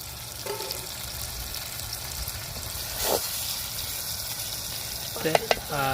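Quiet, steady sizzle of fish pieces frying in a pan, with a brief clatter midway and a few clinks near the end.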